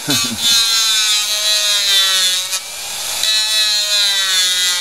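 A Dremel rotary tool cuts slots into a handmade bone guitar nut, a close, high-pitched whine and grinding rasp that holds steady with a brief dip, no talking.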